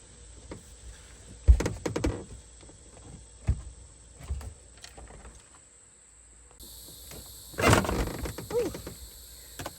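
A vacuum cleaner bin is emptied by hand: sporadic plastic clicks, knocks and rattling clunks come in short bursts close by, with a louder cluster of clattering near the end and quiet pauses between.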